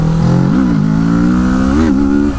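A 2017 Kawasaki Z650 motorcycle's engine revs loudly and close during a wheelie attempt, its pitch rising and dipping twice in a sustained roar.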